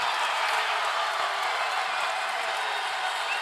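Arena crowd at an NCAA men's basketball semifinal, Seton Hall against Middle Tennessee, roaring and cheering: a dense, continuous wash of loud crowd noise with no break, no distinct single voices.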